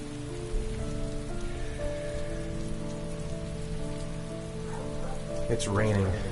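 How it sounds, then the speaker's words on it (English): Steady rain patters on surfaces in a rainy outdoor scene from the video game Heavy Rain, a constant dense hiss over a low musical drone, with a character's voice briefly near the end. "It's raining. I'd better get back inside."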